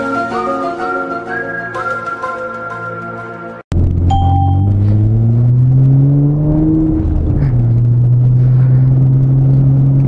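A car with its muffler removed roars loudly, revving up in rising sweeps after a brief musical chime-like intro, the unmuffled exhaust harsh and close.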